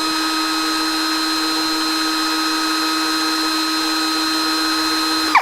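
A LYUOWO LW CZ20 impact driver runs at its first speed setting, giving a steady, continuous motor whine with a sustained high tone, held alone and close from start to finish before cutting off at the end.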